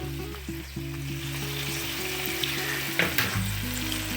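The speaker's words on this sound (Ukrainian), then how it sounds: "лопаткою для перемішування для того, аби мандарин якомога більше пустив соку" A frying pan of mandarin juice sizzles continuously while a spatula stirs and scrapes through it, with a low hum running underneath.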